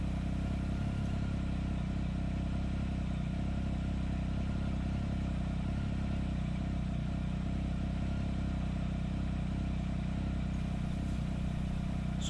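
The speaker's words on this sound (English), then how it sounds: "So I'm just going to let the bike run for a second or two." A 2016/17 Triumph Speed Triple motorcycle engine idles steadily and loudly nearby, a continuous, unbroken running drone with no voices over it.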